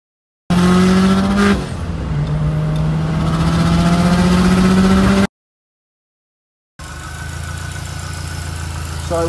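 Modified 600+ hp Subaru STI on a test drive, engine loud and close with a rising, revving pitch and gear changes, cutting out briefly before resuming at lower steady throttle.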